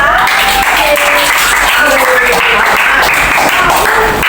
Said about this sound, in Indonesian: boleh tepuk tangan untuk kelompok 5